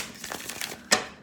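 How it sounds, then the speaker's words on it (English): A deck of tarot cards being shuffled by hand: soft papery riffling and crinkling over about a second, ending in one sharper snap of cards, close and quiet. "I'm shuffling the wrong deck."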